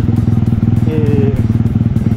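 A motorcycle engine fitted with a Pietcard CDI ignition accelerates hard from a launch, giving a close, loud, pulsing low throb that runs steadily through the whole short burst.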